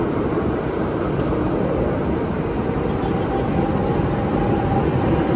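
A 213 Series three-car metre-gauge electric commuter train heading to Manresa hums and rumbles steadily, a loud continuous low drone, with faint higher whines drifting through.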